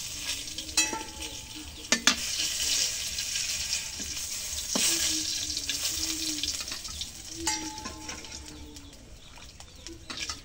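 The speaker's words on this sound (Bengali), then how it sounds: "ডালের মধ্যে জিরা, আমার তেজপাতা দিয়ে দিই।" Cumin and bay leaves sizzle in hot oil for dal, a steady crackling hiss with occasional sharp clacks of a spoon stirring against the pan.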